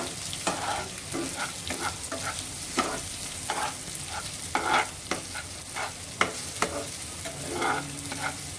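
A spoon stirs khichuri frying in a pan, with a constant sizzle and repeated scraping strokes close by and no talk.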